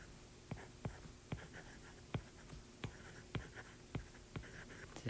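Chalk or marker strokes on a board during a mathematical physics lecture, a series of sharp taps and short scrapes at irregular intervals, close and distinct with no talk.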